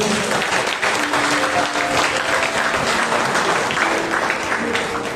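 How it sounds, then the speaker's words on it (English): A prayer meeting congregation gives steady, full applause that fills the room evenly for several seconds, with faint sustained tones underneath. "A big clap to the Lord Jesus"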